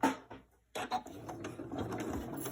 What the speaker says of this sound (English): I sew across